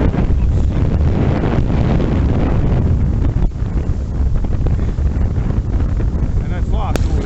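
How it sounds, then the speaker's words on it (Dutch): Strong wind buffets the microphone while sailing on open water out of Enkhuizen at Easter, a loud continuous rumbling roar with gusty fluctuations and a brief high tone near the end. "En het waait aardig."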